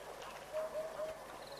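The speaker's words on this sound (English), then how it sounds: "So that's a bird species called an African hoopoe." Three soft, hollow hoots from an African hoopoe sound in even succession at a distance, heard over a quiet outdoor background at a waterhole.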